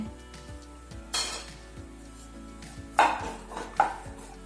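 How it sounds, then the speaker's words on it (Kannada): Chopped dates go into grated coconut frying in a pan for coconut date burfi, with a few sharp metallic clinks and scrapes of a utensil against the pan over a quiet background. "ಈಗ ಇದಕ್ಕೆ ಕಟ್ ಮಾಡಿದ ಖರ್ಜೂರ ಹಾಕ್ತಿದ್ದೀನಿ"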